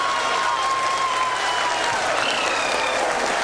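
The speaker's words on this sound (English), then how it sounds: "people are applauding" Audience applause in a hall for the Chandrayaan lander module touchdown, a steady dense roar of many clapping hands filling the room, loud and continuous without pause.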